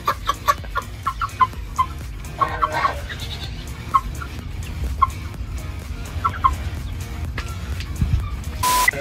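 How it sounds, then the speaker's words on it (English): Jersey Giant chickens, a large American breed, cluck and call on a homestead, with repeated short bursts of fowl sounds scattered through steady background noise. "These are our Jersey Giant chickens."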